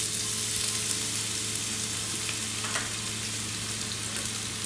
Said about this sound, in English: Let's get the onions in there.